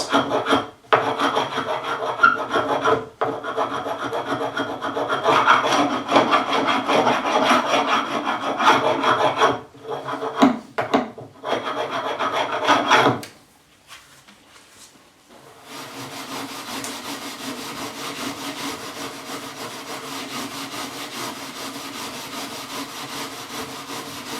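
Profile scraper stripping paint from a wooden staircase, a loud rasping scrape in long continuous strokes that stops briefly, then resumes as a softer, steadier grind.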